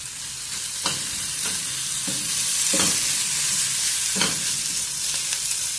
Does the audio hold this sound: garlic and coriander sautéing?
yes